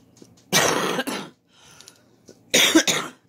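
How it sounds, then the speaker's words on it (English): A woman gives two harsh, raspy coughs close to the microphone, the bursts separated by a quiet pause with faint breathing and small rustles. "I still got this crazy cough."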